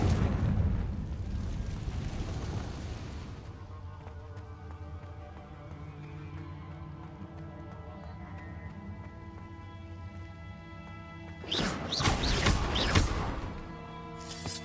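In Hogwarts Legacy, a Confringo blasting spell bursts with a loud, rumbling explosion at the start. A quieter musical stretch follows, then another cluster of booming blasts near the end.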